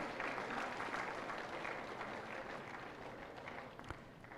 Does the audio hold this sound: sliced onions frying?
no